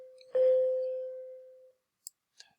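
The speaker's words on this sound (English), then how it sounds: "the bell was ringing there" A doorbell gives a single clear electronic tone that rings on for over a second, followed by two faint clicks in an otherwise quiet room.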